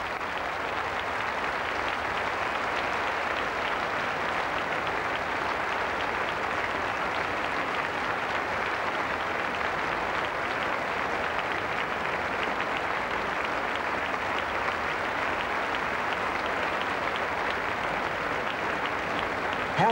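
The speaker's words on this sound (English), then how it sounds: "let's listen to the applause as the two players come out onto center court" Crowd applause at Wimbledon Centre Court as players walk out for the 1998 women's singles final, a vast, steady roar of clapping sustained evenly for twenty seconds with no talk.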